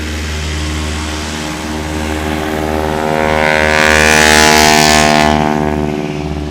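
A de Havilland Beaver with its Pratt & Whitney radial engine roars close and loud at short-takeoff practice in Jennings, Louisiana, a deep throbbing drone building in intensity as it takes off.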